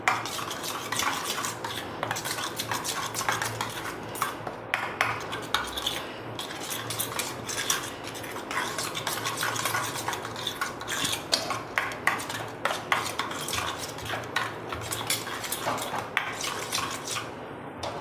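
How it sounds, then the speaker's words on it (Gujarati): Sauce for veg Mexican tacos being mixed in a bowl, with continuous close clinking and scraping of a spoon against the dish under a soft wet churning, no speech. "હવે આપણે આ સોસ મિક્સ કરી લઈશું"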